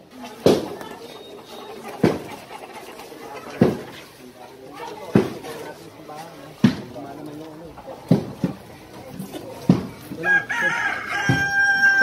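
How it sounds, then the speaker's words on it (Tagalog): Chickens cluck close by in a busy yard, with regular sharp bursts of calls and a rooster crowing; people talk in the background. "Dito, ang dami manok, oh."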